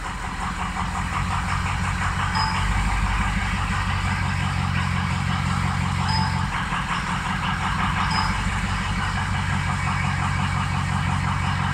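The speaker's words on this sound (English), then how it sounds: "You hear that turbo starting." A turbocharged engine with a fueling fault, one cylinder over-fueling and others running low, idles steadily and loud, a continuous close rumble with a faint uneven knock throughout and no voices.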